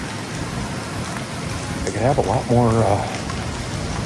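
Rain falling on a parked van, a steady close hiss of drops on the roof continuing throughout, with a person speaking briefly over it midway.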